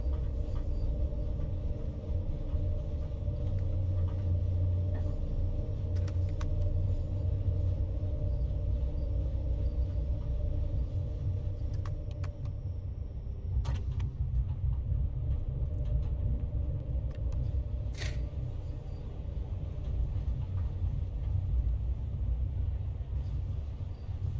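A train rolling along the Bernina line in Switzerland gives a steady low rumble throughout, with a few faint higher clanks and squeals over the continuous running noise.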